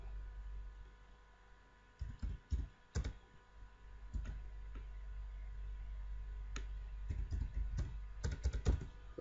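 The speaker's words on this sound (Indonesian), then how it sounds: "terus saya ketikkan" Computer keyboard typing during design work in CorelDraw comes in close, crisp bursts of keystrokes, with a quieter gap in the middle and a faster flurry at the end.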